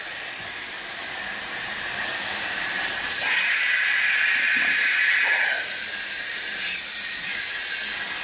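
Mettex FAR RAC171 pneumatic rivet tool running: a loud, continuous airy hiss of compressed air that rises and swells midway, with faint mechanical clicks under it.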